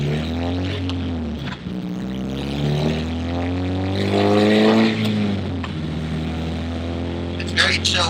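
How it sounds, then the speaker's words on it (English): A Honda CRX with a K20A2 four-cylinder engine cruises with a deep, moderate exhaust drone that rises and falls gently with throttle, heard steadily from inside the car. "you can hear the exhaust. It has depth to it. It sounds real deep."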